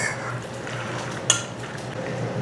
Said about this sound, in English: So let's go ahead and just stir that in real quick.